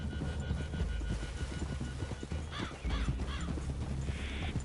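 Horses' hooves clip-clopping in Red Dead Redemption 2, a steady rhythmic clatter under a low throbbing ambience, with brief whinny-like calls partway through.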